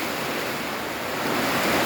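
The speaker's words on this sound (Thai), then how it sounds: "ทั้งลมทั้งฝนมาอีกรอบนี่" Loud, steady roaring wash of wind and rain, unbroken for the whole stretch, with no voices.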